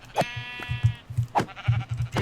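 Sheep in the Minecraft video game bleat several times in quick succession, close and clear over a low rhythmic thudding, with no talk.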